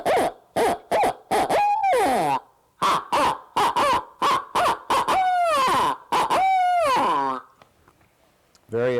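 Barred owl hoots imitated on a hand-cupped owl call, blown as rapid clipped hoots followed by long sliding, descending wails, repeated twice, loud and close, meant to draw a spring gobbler's response.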